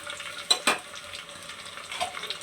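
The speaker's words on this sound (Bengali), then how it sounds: "আর এই যে পেঁয়াজগুলো এখনো লাল হয়নি, আর একটু ভেজে নিব ভালো করে" Onions being fried in a pan for biryani, with a soft continuous sizzle and two quick stirring scrapes near the start, close and fairly quiet, with no voices.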